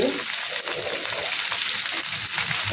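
Okra (bhindi) sizzles steadily in a hot pan, a dense continuous frying hiss with faint stirring scrapes, close and fairly loud throughout.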